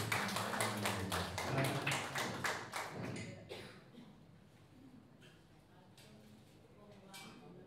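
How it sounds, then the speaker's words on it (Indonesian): Worshippers at an elderly Christian prayer fellowship give a trio warm applause: dense, steady clapping for about three seconds, then it thins to a few scattered, fading claps. "Sekali lagi mari kita sambut dengan kasih tepuk tangan terbaik"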